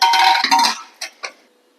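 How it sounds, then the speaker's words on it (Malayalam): A ringing metallic clatter as a pressure cooker lid is set in place over pumpkin and lentil curry, followed by two short clicks as it locks shut. "കുക്കറടച്ച്"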